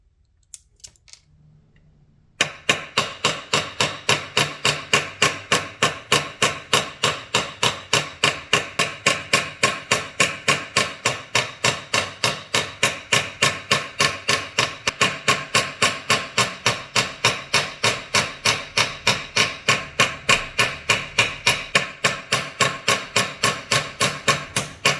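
Rapid, steady metallic tapping from pins being hammered shut on a one-handed wine opener knife, close and loud, a long even run of evenly spaced strikes after a brief quiet start.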